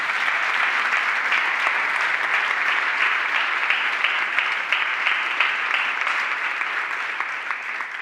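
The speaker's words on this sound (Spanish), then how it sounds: "Dale un aplauso al Señor, ¿no?" A church congregation claps steadily in dense, sustained applause that fills the room at an even level, slowly tapering toward the end.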